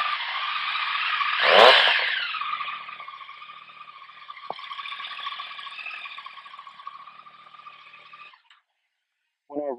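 A 2015 Yamaha MT-09 running an Akrapovic exhaust with the dB killer baffle removed gives a loud, raspy, steady roar that swells briefly near the start, holds for about eight seconds, then cuts off abruptly.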